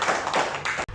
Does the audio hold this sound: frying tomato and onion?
no